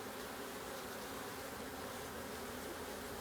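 Honey bees buzzing excitedly inside a beehive, a constant, dense drone of many wings at low, even level with no pauses.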